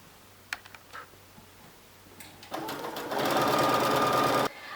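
Sewing machine stitching rows with elastic thread, starting with a few light ticks, then running steadily and loudly for a couple of seconds before stopping abruptly.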